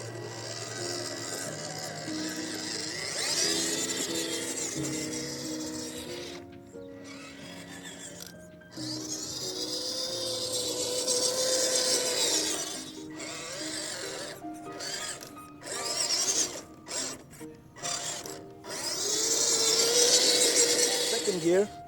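A high-RPM 370 electric motor drives a WPL two-speed gearbox in first gear, giving a whining, shifting mechanical drone that starts and stops in bursts, up close and fairly loud, with a voice heard speaking in places.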